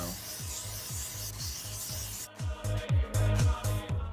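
Rhythmic back-and-forth rasping of 1000 grit sandpaper scrubbing a car headlight lens on an Integra, close and steady with repeated strokes, heavier toward the end.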